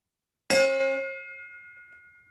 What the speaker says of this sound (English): Ring my ceremonial virtual bell here and call us to order.